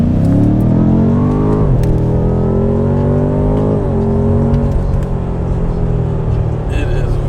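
A 700-horsepower BMW M5 in all-wheel drive mode accelerates hard from inside the cabin, its engine roaring loud and close with rising pitch through quick gear changes, while a voice talks over it.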